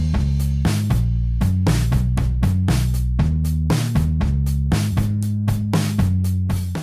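A MIDI bass line holds each note until the chord changes, booming steadily under a crisp, loud, continuous drum groove.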